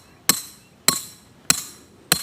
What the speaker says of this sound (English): you just put your stake through there, your trapping hammer